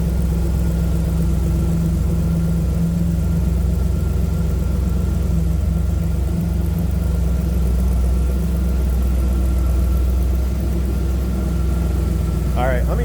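A 1963 Ford F100 4x4 with fuel injection idles through its side-exit exhaust, a deep steady low rumble that stays loud and even throughout, with someone talking over it.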